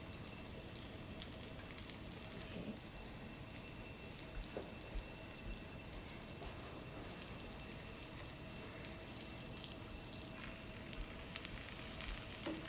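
Steady crackling sizzle of skewers frying in a pan, continuous and close, with scattered louder pops over the constant hiss.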